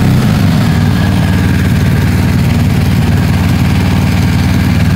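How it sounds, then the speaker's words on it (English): A motorcycle engine with an exhaust butterfly valve being checked for sticking runs at a loud, steady idle, its low throbbing pulse close and continuous throughout. "So let's start the bike and see what happens."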